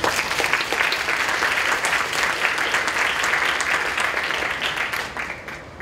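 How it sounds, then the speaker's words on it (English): A lecture audience at a disability bioethics evening gives a sustained round of applause, an even wash of many clapping hands that holds steady for several seconds before tapering slightly at the end. "please join me in extending a round of applause both to Rosemarie Garland-Thomson and for Tara"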